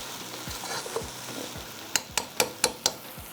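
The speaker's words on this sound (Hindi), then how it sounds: "अच्छी तरह से आपने इसको फ्राई करना है सब्जियों को प्याज के साथ" Mixed vegetables frying with onions in a pot on a lit stove, a steady low sizzle with soft stirring scrapes, then five sharp spoon or utensil taps against the pot in quick succession near the end.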